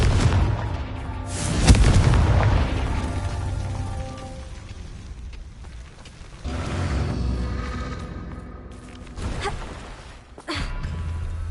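A Confringo fire spell exploding in Hogwarts Legacy on PS5, with a deep booming blast followed by rumbling crackle and a few later softer bursts.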